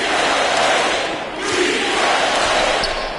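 A home arena crowd in the basketball game NBA 2K25 roars loudly and steadily, a dense wash of cheering that swells briefly, dips and rises again for about three seconds.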